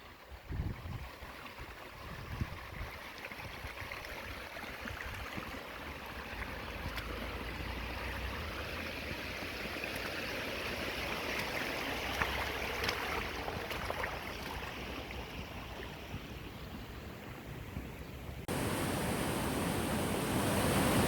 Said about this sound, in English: So the pathways have become small streams and rivers